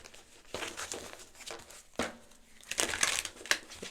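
Tarot cards shuffled by hand during a reading, giving soft papery riffles and slaps in several bursts, with a denser crisp flurry near the end; no talking.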